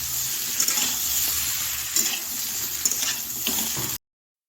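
Potato and tomato curry is stirred in a pan, a continuous wet sizzle with scraping spoon strokes and soft bubbling, close and steady for about four seconds before cutting off.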